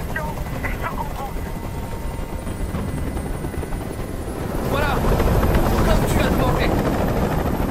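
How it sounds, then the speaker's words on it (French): Helicopter rotors beat steadily overhead in the video game Detroit: Become Human during a rooftop hostage standoff, a loud continuous chop that swells louder about halfway through. "Je peux plus supporter ce bruit! Fais dégager cet hélicoptère,"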